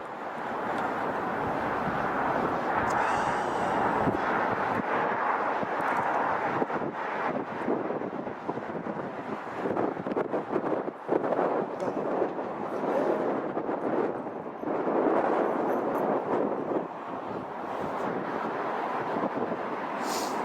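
Air New Zealand jet roaring through its takeoff at London Heathrow, a loud continuous broadband rumble with wind buffeting the microphone, steady throughout with slight surges.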